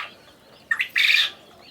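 Pet quail feeding in their enclosure give a couple of short, bright chirps, a brief call followed by a slightly longer burst of tweeting, close by against a quiet background.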